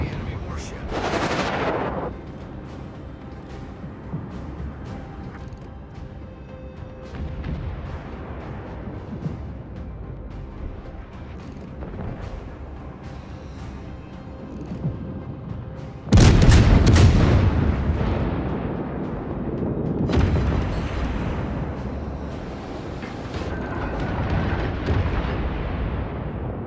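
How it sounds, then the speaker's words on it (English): Warship naval guns firing in the World of Warships video game, heavy booming salvos with a big loud blast partway through, rumbling explosions and echoing tails over a continuous battle drone. "Concentrate fire on the enemy warship."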